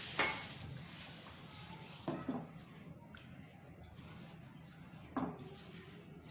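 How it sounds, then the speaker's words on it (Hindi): Semolina halwa stirred in a pan with a spatula or spoon, a soft continuous scraping and faint sizzle with a few louder scrapes against the pan bottom, close and without talk. "स्पैचुला या चम्मच जो भी आप यूज़ कर रहे हैं मुसलसल हिलाते जाएं।"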